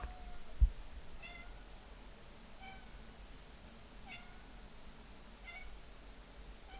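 A house cat meows four times at a distance, each call soft and evenly spaced over a quiet room, after one sharp knock near the start.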